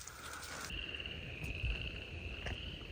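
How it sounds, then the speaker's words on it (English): Chorus frogs call in a Georgia wetland in December, a faint steady trilling chorus from a distance under low background rustle. "December chorus frogs calling."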